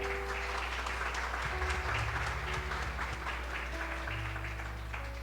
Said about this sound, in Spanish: Queremos darles un aplauso de bienvenida.